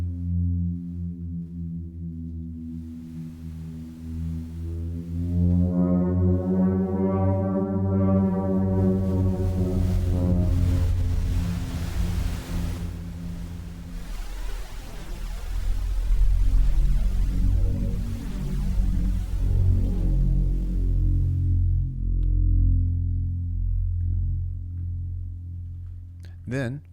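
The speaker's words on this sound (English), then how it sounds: "Next up, we've got the subby drone that we listened to from beforehand." A deep, subby synth drone built in the Phase Plant synthesizer, sustained for the whole stretch, its rich harmonic stack swelling and sweeping around the midpoint before thinning, loud and alone with no voices.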